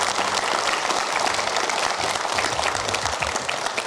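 A studio audience at a political talk show gives a dense, steady round of applause that stays at a constant level for the whole stretch, with no voices above it.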